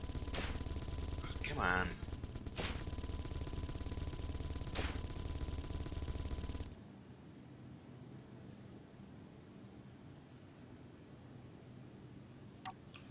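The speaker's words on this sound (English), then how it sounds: "I think I'm gonna run out of missiles." Missile launches and gunfire during a space battle in the game Space Engineers, with rapid mechanical firing and a few sharp blasts over a noisy bed for several seconds before cutting to a quiet hiss; a voice speaks briefly.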